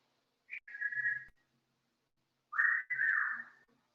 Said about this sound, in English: Oh, you hear the birds back there?